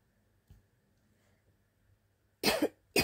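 A person with an itchy throat coughs twice near the end, two loud close bursts after a mostly quiet stretch with a faint earlier catch.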